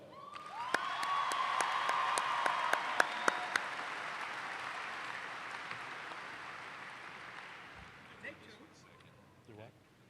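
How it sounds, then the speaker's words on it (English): Commencement crowd applause for newly commissioned cadets, a broad burst of clapping near the start that swells, then slowly thins and fades over several seconds, with a few scattered claps and a faint voice toward the end. "please again give each of these cadets a special round of applause"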